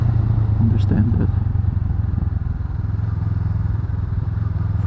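A 2019 Honda Rebel 500 motorcycle engine runs with a steady, loud low rumble, close by, with a brief clatter near the start.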